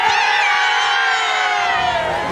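Baseball crowd of Orioles fans in Baltimore cheering and shouting in a loud, continuous roar that fills the space without a break.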